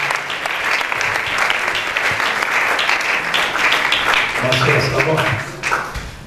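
Church congregation applauding, loud continuous clapping from a crowd with voices talking and singing over it throughout.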